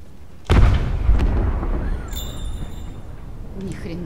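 A sudden deep boom bursts out in The Last of Us, a loud explosion that rumbles and fades over a couple of seconds before voices speak over the lingering debris.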